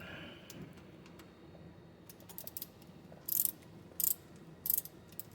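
Ratchet socket wrench on an Allis Chalmers WD tractor during a fluid change, faint clicking turns followed by three short, sharp ratcheting bursts close by, with no talk.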